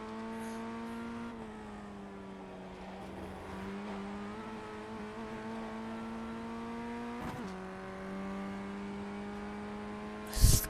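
Ray FF1600 race car on the Nordschleife in iRacing, a steady, close engine drone with harmonic pitch shifts as it lifts and accelerates again, ending in a sharp burst of noise.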